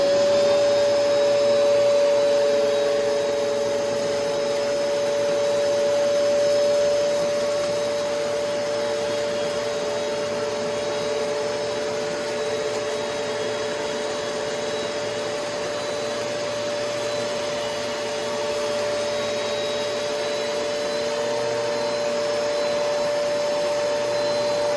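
A Kenmore Progressive canister vacuum cleaner with an empty bag runs steadily at close range, a loud, constant motor whine and airflow rush that holds for the whole stretch without a break.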